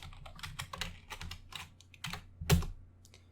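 Keys clatter on a computer keyboard in quick, uneven bursts of typing, close and fairly quiet, with one louder clack near the end and no talk.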